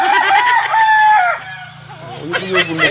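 A rooster crows loudly and close, one long drawn-out call, followed by brief clucking and background noise.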